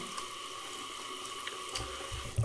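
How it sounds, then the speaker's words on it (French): Lukewarm water runs from a tap into a sink during face rinsing, a steady faint splashing stream with a slightly louder burst of water near the end and no talking. "je le rince à l'eau tiède voire un peu froide"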